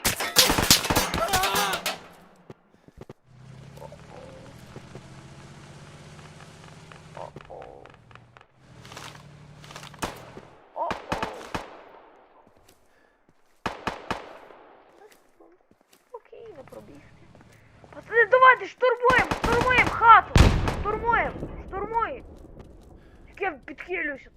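Bursts and single cracks of gunfire in a Roblox shooter game ring out amid excited player voices, with scattered shots early, quieter gaps, then a denser cluster of firing near the end.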